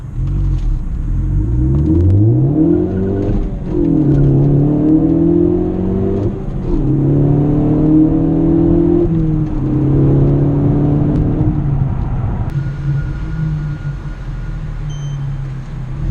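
A Ford Focus ST with a Ford Performance exhaust accelerates hard from a standstill, engine roaring up through several gears, pitch climbing then dropping at each shift, loud and close, before settling into a steadier cruising drone.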